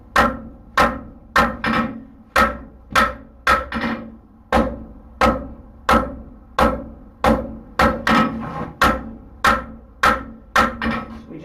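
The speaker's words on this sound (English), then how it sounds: "now we're going to actually just flatten it out and make it into a screwdriver type arrangement" Hot horseshoe steel is hammered flat on an anvil while forging a hoof pick, about twenty loud, ringing blows at a steady, unhurried rhythm, heard up close with no talk.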